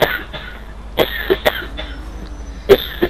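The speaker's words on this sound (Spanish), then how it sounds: "te estás tosiendo" A person coughs repeatedly in short, sharp bursts at irregular intervals during a Grand Theft Auto V online session, fairly close and clear with no speech.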